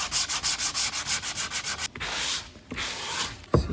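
Hand sanding of a carved wooden table, with rhythmic back-and-forth strokes of abrasive on wood, about a dozen quick rubs followed by longer, steadier passes, close and clear with no talking.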